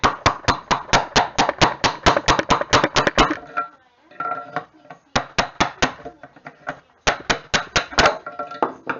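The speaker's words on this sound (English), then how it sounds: "I got a rubber mallet over there," A rubber mallet knocks on a 1968 Dodge Charger tail light assembly in a garage, with rapid runs of loud, close, evenly spaced blows broken by short pauses and a few lighter taps.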